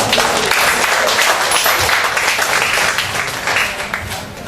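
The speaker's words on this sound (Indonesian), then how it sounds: "Beri aplaus untuk mereka semua." An indoor audience at a school-related gathering gives a sustained round of applause, dense and steady before tapering slightly toward the end.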